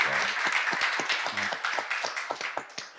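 A church congregation applauds during a sermon seminar, a dense patter of many hands with distinct claps standing out, steady for a few seconds with a faint voice at the start.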